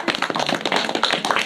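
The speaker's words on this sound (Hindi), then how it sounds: "वेरी गुड, ताली बजाओ।" Children clap in a village free coaching centre in Ayodhya, a brief burst of quick, close hand claps lasting about a second and a half.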